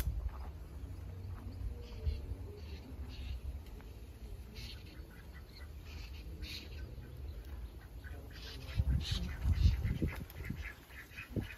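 Farm ducks quack in a loose flock outdoors, the calls fairly distant under steady background noise, growing busier and closer toward the end.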